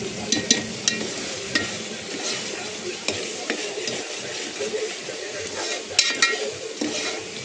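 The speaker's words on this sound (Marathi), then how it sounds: "भाजत आलाय आता आपला मसाला" Ground spice masala for a rustic green-chilli mutton curry is stirred as it roasts in a pan, giving a soft continuous sizzle with scraping spatula strokes and occasional clinks against the metal.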